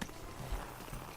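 Horse hooves in Kingdom Come: Deliverance II, a few soft clip-clop steps close by, quiet and brief with no talk over them.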